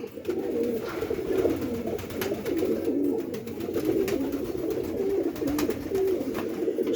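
Pigeons coo steadily at a pigeon sale, a dense flock of low, overlapping burbling calls continuing throughout with no pauses, close and fairly loud.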